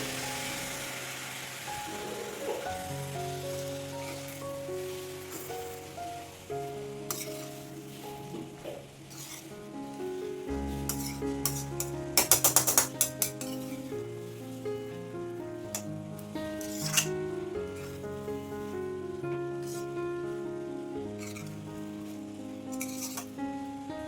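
Fenugreek leaves are gently stirred through a hot tempering in a pan for methi bhaji. A soft, continuous sizzle like light rain runs under scattered clinks and scrapes of the spoon, with one brief louder rattle.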